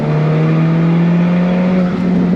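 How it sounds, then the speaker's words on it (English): 2015 Alfa Romeo 4C Spider with sport exhaust accelerating, a loud, close, steady engine drone holding a smooth rising tone for a couple of seconds with no talking. "the sound the sound out of that sport exhaust is just harmonious"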